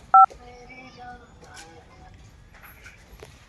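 A single short telephone keypad tone beeps at the start, followed by quiet talking nearby.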